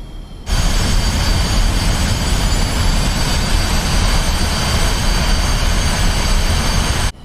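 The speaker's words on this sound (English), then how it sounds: "Those beautiful, beautiful Cold War aircraft." Cold War jet aircraft engines in the DCS World flight simulator roar in a loud, steady, broadband wash with a faint high whine on top, starting abruptly and holding unchanged for about seven seconds before cutting off.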